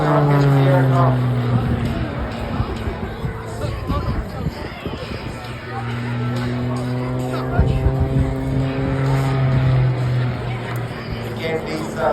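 An aerobatic aircraft performs tumbling and turning manoeuvres at the Blackpool airshow, its propeller engine droning and rising and falling in pitch at a distance beneath steady commentary and crowd noise.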